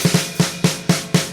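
Beats 3 and 4 of a drum groove: a single stroke roll into an open hi-hat, with six evenly spaced punchy hits ringing close and loud, no talking.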